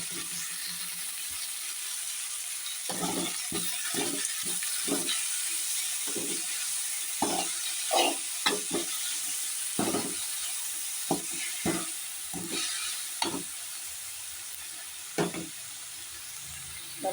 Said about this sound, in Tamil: நல்லா வதக்கணும்.